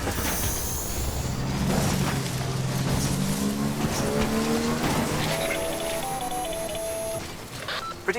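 A vehicle drives steadily through the Death Stranding video game, its engine holding a sustained loud drone with pitch shifts as it moves. Tones ring out briefly partway through, and no voices are heard.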